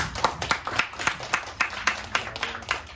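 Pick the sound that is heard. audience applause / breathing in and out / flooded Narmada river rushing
audience applause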